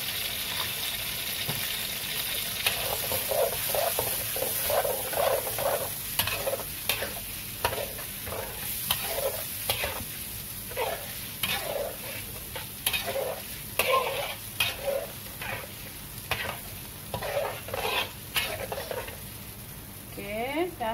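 Tomato puree frying and being stirred in a pan for a beef kuzi dish, a steady sizzle broken by repeated rhythmic scraping strokes of the spoon, close and fairly loud throughout, with no talking.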